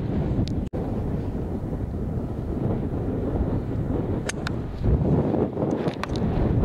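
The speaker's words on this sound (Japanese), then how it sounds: "風は強い風が竹内さんがグリーン向いて左からガンガン吹いてます" Strong gusty wind buffets the microphone on a golf course at a long hole's second shot, a steady low roar that swells and dips throughout with no speech.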